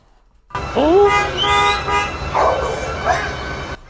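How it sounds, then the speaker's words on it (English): Loud honking toots sound close by, with tonal horn-like blasts and wavering pitch, mixed with barking-like yelps against road noise. "People honk."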